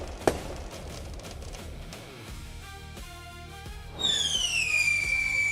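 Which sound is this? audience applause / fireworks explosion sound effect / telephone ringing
fireworks explosion sound effect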